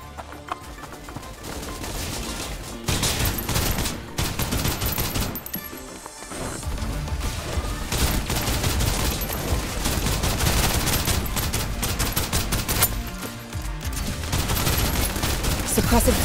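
Sustained suppressive gunfire in the sci-fi shooter Snowbreak, a dense loud barrage of rapid shots that runs nearly throughout, with brief lulls before resuming.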